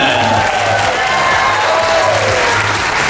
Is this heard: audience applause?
yes